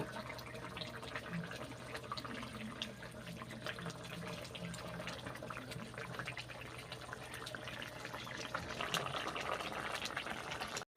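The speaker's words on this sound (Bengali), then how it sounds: "এইবার আরও 5 মিনিট ধরে ফুটিয়ে নেব।" Potato and egg curry with fried fritters bubbles in a pot, a soft continuous simmering burble with faint pops, steady and low throughout with a slight swell near the end.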